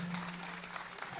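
Applause from an audience at an appointment-letter distribution ceremony in Dehradun, a soft, steady patter of clapping held at moderate distance with a faint hum underneath, continuous through the short moment.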